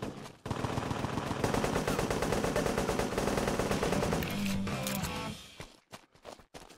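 A Sten gun fires in sustained fully automatic bursts in the World War II game Honor and Duty D-Day, a dense rapid rattle lasting several seconds before breaking into a few shorter bursts.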